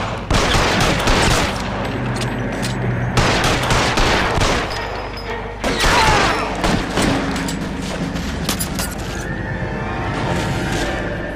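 Gunfire in the video game L.A. Noire: loud repeated shots and bursts over a dense, continuous game soundscape, with a horse whinnying and hooves mixed in.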